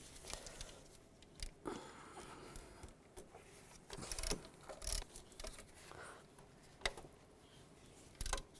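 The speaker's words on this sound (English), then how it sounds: "Now take the bolts out for the alternator. Use a 15mm socket." Metallic ratcheting and clicking as a 15mm socket wrench loosens the three alternator bolts on a 2002-2009 Chevy Trailblazer, faint bursts of ratchet clicks with pauses between, no speech.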